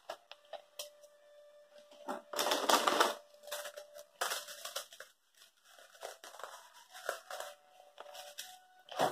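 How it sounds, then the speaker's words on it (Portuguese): Chocolate bars are broken into pieces on a plate, heard close up as irregular bursts of snapping, crunching and crinkling, with brief quiet gaps and a faint steady tone behind. "eu já quebrei todos os chocolates aqui nesse prato"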